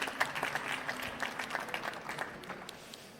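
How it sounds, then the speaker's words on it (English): Audience applause at an EU Industry Days parallel session in a conference room: a modest, fairly faint patter of clapping from a smallish crowd, steady for a few seconds and slowly thinning. "So if we could all give a warm round of applause to Peter Handley."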